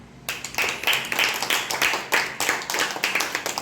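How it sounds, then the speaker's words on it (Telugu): Children clap in a classroom lesson about plants, a quick ragged burst of rhythmic hand claps after a sharp start, close and lively, lasting the whole stretch without speech. "Very good, claps."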